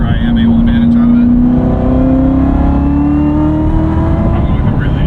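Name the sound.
Chevrolet Corvette Z06 manual car engine accelerating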